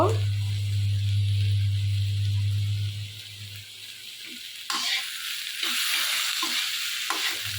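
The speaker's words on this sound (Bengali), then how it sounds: "এটা আমি এক মিনিটের মতো বেজে নিলাম" Spices with ginger and chili fry in a pan with a close, crackling sizzle and a low hum that fades after a few seconds, followed by quieter sizzling and scraping stirs.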